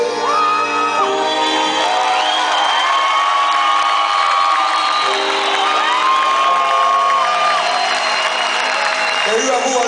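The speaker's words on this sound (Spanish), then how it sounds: "Ahora nos toca a nosotros darle un aplauso a usted." A crowd at a live hip-hop show in Miami cheers, whoops and shouts loudly and continuously, a dense roar of voices with sustained yells rising over it throughout.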